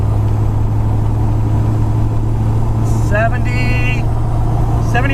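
A Duramax diesel truck with a six-speed manual conversion drones steadily as it accelerates toward highway speed, its low engine hum heard from inside the cab, with a voice talking briefly over it.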